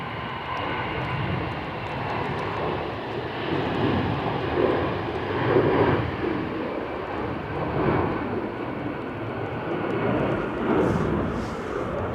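Engines of an orange EasyJet airliner rumble steadily at Manchester Airport on a stormy day, a broad continuous roar with gentle swells, fairly close and without talk.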